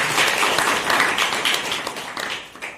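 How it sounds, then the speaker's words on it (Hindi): A burst of crowd applause, steady clapping from many hands that fades slightly toward the end. "एक बार जोरदार तालियां"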